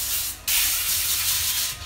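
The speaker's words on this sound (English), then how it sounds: "Give it a good spray, right?" An olive oil cooking spray can hisses in a short burst, pauses briefly, then sprays again in one longer, steady hiss, close up.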